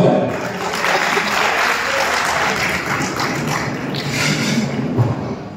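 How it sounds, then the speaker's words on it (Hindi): An audience applauds after Sharma sir's song, a steady, dense wash of many hands clapping that stays fairly loud and even for the whole stretch. "स्वागत शर्मा सर को एक प्यारे से गीत के लिए एक बार जोरदार तालियां हो जाए"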